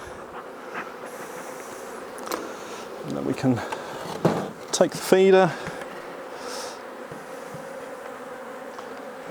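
Honey bees buzz at an open hive during an August shook swarm, with a smoker puffing around the top edge. The hum is steady and faint, sharper bursts come from bees close by, and someone talks over it.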